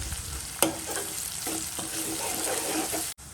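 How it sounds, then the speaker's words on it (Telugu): Onions fry in oil until brown with a constant bright sizzle and occasional soft stirring scrapes, one sharp knock early on and a sudden cut near the end. "సో ఇవి కూడా బ్రౌన్ కలర్ వచ్చేంత వరకు ఫ్రై చేసుకోండి గైస్"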